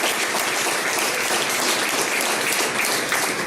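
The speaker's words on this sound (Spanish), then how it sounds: "Un fuerte aplauso al Señor." A church congregation applauding during a Sunday sermon, a dense, continuous wash of many hands clapping at moderate loudness, steady throughout with no voices standing out.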